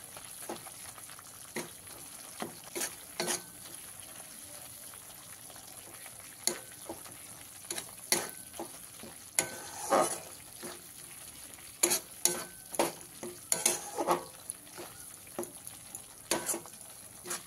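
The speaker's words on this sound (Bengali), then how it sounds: "খুব ভালো করে কষিয়ে নিয়েছি" A soft, steady sizzle of paneer masala spices with fried cashews frying in a pan, broken by repeated scraping and clattering strokes of a spoon stirring, growing busier toward the end.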